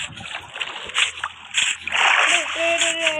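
A splash as a player character falls into water in the Minecraft video game, with a burst of watery noise under ongoing talk from players and background game sounds.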